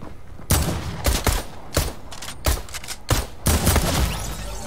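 Rapid bursts of Fortnite gunfire crack out in repeated volleys, loud and close, separated by brief gaps, with no talk over them.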